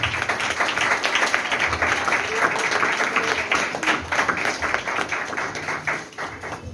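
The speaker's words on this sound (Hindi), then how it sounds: "जोरदार तालियां बजाइएगा।" Dense applause from a church audience fills the space, many hands clapping steadily and loudly before tapering off slightly at the end.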